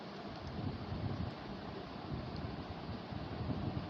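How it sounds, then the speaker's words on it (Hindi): Strong wind blowing outdoors, a steady, loud broadband rush buffeting the microphone for the whole stretch with no pauses and no voices. "देख सकते हैं कितनी हवा चल रही है"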